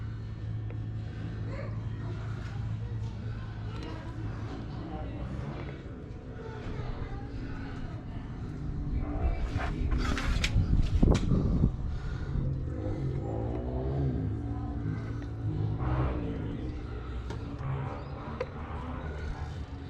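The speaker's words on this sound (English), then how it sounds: "here's the exhaust from underneath." A Holden HT Monaro's freshly fitted exhaust runs from underneath the car, a steady low rumble that swells louder midway, with indistinct voices faintly in the background.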